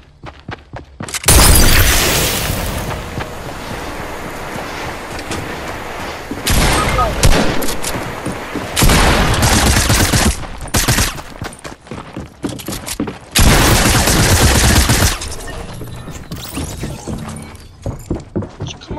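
Loud gunfire and impact bursts in a Fortnite Battle Royale match, several heavy volleys separated by quieter gaps, with a player talking in between.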